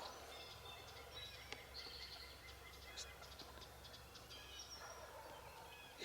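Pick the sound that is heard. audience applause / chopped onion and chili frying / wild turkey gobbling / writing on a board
wild turkey gobbling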